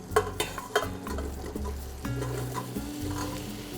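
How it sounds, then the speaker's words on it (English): Apples dropped into melted butter in a pan on medium heat sizzle and fry, with a few clattering stirs and scrapes near the start and a steady close hiss. "once your butter is fully melted, we're going to add the apples."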